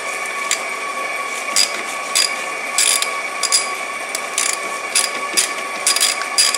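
A ratchet wrench clicks in short repeated bursts while backing off a 13 mm nut from a battery terminal connection, close and clear with no talking.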